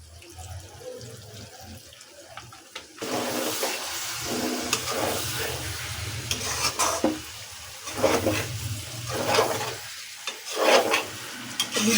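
Vinegar is poured into raw mango pickle frying in a pan: after a quiet start, a sudden loud hissing sizzle bursts up and continues with stirring scrapes and bubbling surges, close, without talk.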